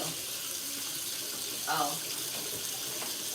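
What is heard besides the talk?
tap water rinsing rice in sink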